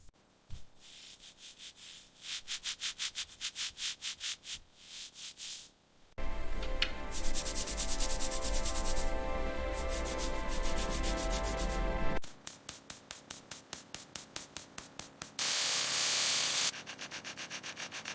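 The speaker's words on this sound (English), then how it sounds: "Next, sand with fine grit." Fine grit sandpaper rubbing over wood in steady back-and-forth strokes, close and alone, with a louder, denser stretch of continuous abrasive scrubbing in the middle before the quicker rhythmic strokes return.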